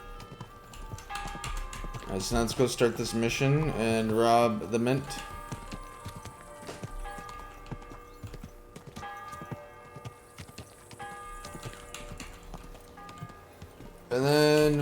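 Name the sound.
horse hooves clip-clopping, from a video game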